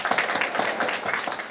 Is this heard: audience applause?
yes